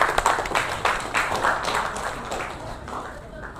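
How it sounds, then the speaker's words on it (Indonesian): A crowd claps in a burst of applause that fades gradually, with voices mixed in over the clapping. "Beri tepuk tangan yang meriah."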